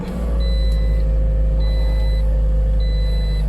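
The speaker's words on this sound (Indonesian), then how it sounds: "Oke, sekarang mesinnya udah hidup." A 2018 Toyota Corolla engine idles steadily with a low, even hum after a fuel pump replacement, punctuated by three short high-pitched beeps at regular intervals.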